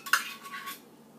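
A utensil stirs peach banana bread batter in a bowl, giving a few quiet clinks and scrapes against the bowl's side that fade out within about a second.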